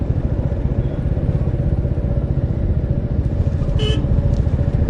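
A motorcycle rides over a series of speed breakers, its engine rumbling steadily up close with constant road noise and a brief horn-like tone near the end.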